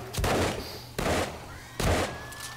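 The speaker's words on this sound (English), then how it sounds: "Still got some bombs going off on the outside as well." Bombs going off during horde night in the game 7 Days to Die, three heavy booming blasts about a second apart, loud and close, with a faint thin tone trailing after the last.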